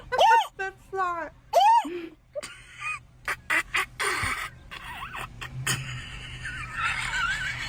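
Geese honk loudly and close in a quick burst of repeated nasal calls at the start. Scattered shorter calls and busier outdoor noise follow.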